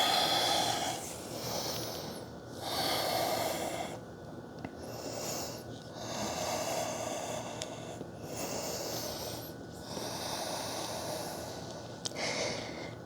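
Deep yoga breathing during an evening flow, with long audible inhales and exhales through the nose repeating in a slow, steady rhythm, close and soft.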